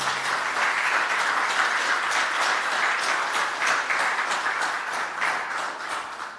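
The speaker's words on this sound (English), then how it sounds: "Round of applause, ladies and gentlemen." Applause from the audience at a stock exchange listing ceremony for Cable and Wireless Seychelles, a steady wash of many hands clapping at moderate volume for several seconds without pause.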